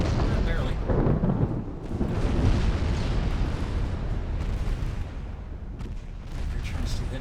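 Naval battle in the game Ultimate Admiral Dreadnoughts, with a torpedo detonation among rumbling booms and artillery-like blasts, a dense sequence of heavy low explosions with a voice talking over parts of it.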